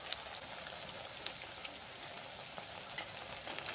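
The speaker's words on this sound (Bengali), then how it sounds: "মিডিয়াম ফ্লেমে রেখে ভাজতে হবে" Semolina and potato snack pieces frying in oil over a medium flame, a continuous even crackling sizzle with small popping bursts, close and steady throughout.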